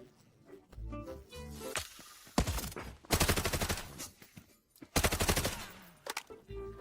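Automatic weapons fire in the shooter game Delta Force, rattling out in several loud, rapid bursts separated by brief gaps, with quieter in-game noises between volleys.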